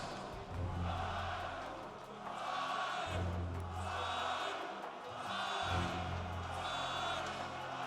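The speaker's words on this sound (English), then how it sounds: "an ovation from the crowd" A large arena crowd at an ESL One Cologne CS:GO esports match, held at the Lanxess Arena, swells in a sustained ovation of cheering and whooping that rises and falls in waves.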